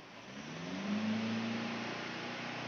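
A Mitsubishi All New Triton diesel engine revs up briefly, its tone rising to a peak then settling into a steady high idle, heard fairly faint and alone.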